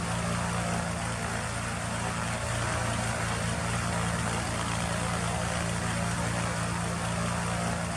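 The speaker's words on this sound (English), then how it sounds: "the 300 horsepowers let us take off from the Northeast Regional Airport" Steady, loud drone of a Cessna 210 single-engine, high-wing plane with a 300-horsepower engine and variable-pitch propeller taking off from Northeast Regional Airport, a constant engine roar with no talk for about eight seconds.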